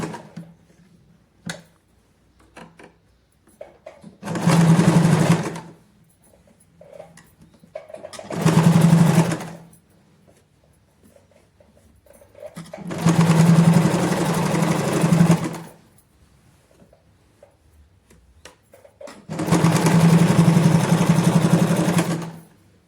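A sewing machine stitches palazzo fabric in four separate bursts of fast, steady mechanical whirring, each running a couple of seconds with quiet gaps of handling noise between them.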